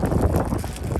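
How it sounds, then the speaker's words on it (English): Wind buffets a microphone outdoors during a BMW X5M camera installation, a short, steady, moderately loud rumble with no speech over it. "It's a bit windy, so if it's a bit distorted, the voice, I do apologize."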